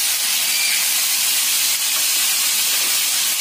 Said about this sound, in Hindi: इसमें हम कटे हुए खट्टे देसी टमाटर ऐड करेंगे